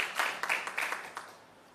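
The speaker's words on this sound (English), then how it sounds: "Can we give him a round of applause" An audience at a national health research conference breaks into a short burst of applause, several quick claps rising and then thinning out within about two seconds, with no voices over it.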